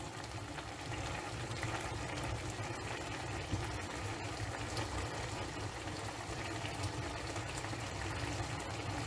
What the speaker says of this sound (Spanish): Observar cómo el agua se va consumiendo, evaporando.